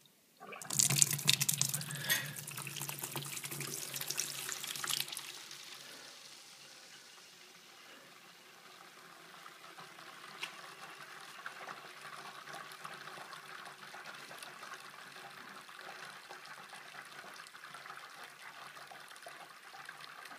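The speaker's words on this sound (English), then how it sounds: "it's time to transfer it to this fermenter and pitch the yeast" Home-brewed beer wort gushes into a fermenter in a loud splashing pour for several seconds, then settles into a quieter steady trickle of liquid running in for the rest.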